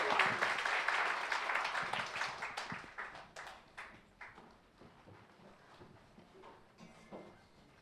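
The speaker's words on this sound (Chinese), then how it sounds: "再一次热烈的掌声" Congregation applauding during a Mandarin Sunday worship service at Yongguang Presbyterian Church: a dense burst of many hands clapping that thins out and fades over several seconds into scattered claps.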